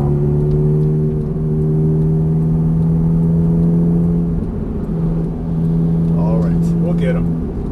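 A Ferrari F430 engine drives on a race track at Fontana, droning loud and steady at high pitch, dipping briefly midway before picking up again, with a voice briefly heard over it near the end.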